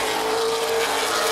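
Late model race cars roaring past at Baer Field Speedway, a loud, dense engine blare filling the short moment with no pause.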